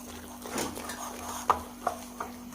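Spoon stirring and clinking in a bowl while spices are mixed into sweet gulgule batter, soft scraping with a few sharp taps near the end, close by.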